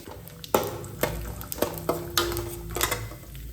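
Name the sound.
mustard seeds, cumin and peanuts sizzling in hot oil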